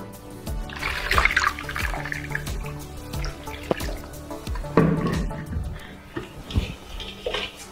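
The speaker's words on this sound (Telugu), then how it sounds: "Now add cold water." Cold water is poured into a pani puri spice mix with kala namak, making irregular splashes, trickles and drips, close and fairly quiet, with a voice faintly in the background.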